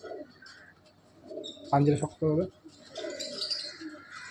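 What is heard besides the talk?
red Rampuri pigeons cooing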